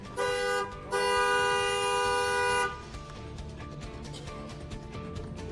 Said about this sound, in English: was that the honking of the horn?